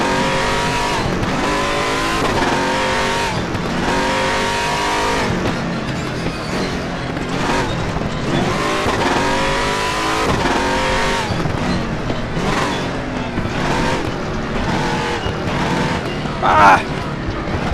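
A race car in RaceRoom Racing Experience revs hard through repeated gear changes, with rising and falling engine whine as it brakes into harder corners. Someone talks over the loud, continuous engine note, and a brief tire squeal comes near the end.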